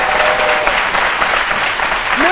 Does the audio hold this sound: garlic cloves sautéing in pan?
no